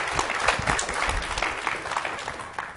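Audience applause at a library event with the president, dense steady clapping from a crowd, continuous and fairly loud throughout.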